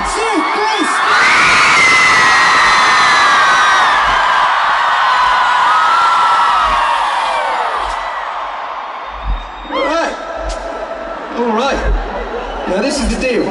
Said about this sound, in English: So on the count of three, give me your loudest scream.